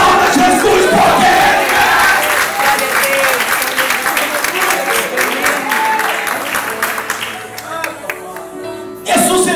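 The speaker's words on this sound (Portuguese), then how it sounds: "Aplauda Jesus" A worship congregation bursts into loud applause mixed with shouts and cries of praise, a full crowd roar that stays strong for most of the stretch and fades near the end.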